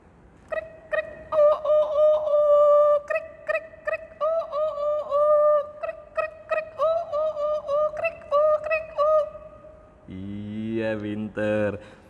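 Several children's voices imitate roosters crowing back and forth, with overlapping short bursts and long held crows that keep answering one another. Near the end a different, lower voice briefly takes over.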